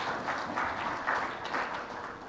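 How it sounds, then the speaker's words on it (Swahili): Applause from an audience at a Simba football club investment event, steady clapping throughout the short stretch without a clear start or end. "Makofi kwa kampuni ya Jairuti tafadhali."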